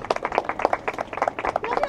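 An audience at a contest claps, with distinct, sharp, uneven hand claps rising and falling in quick bursts, close and fairly loud, with some voices mixed in.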